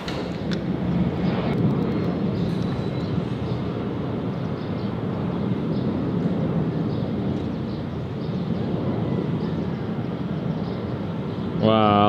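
Airplane passing overhead in the morning at sunrise, a steady broad engine roar that holds for several seconds under quiet talk.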